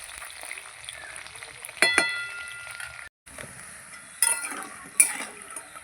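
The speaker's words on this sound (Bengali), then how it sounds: "এইভাবেই উল্টে পাল্টে আমি মাংসগুলো সব ভেজে নেব" Chicken pieces fry in hot oil with a steady sizzle while being turned, marked by a few sharp utensil clinks against the pan and a brief dropout midway.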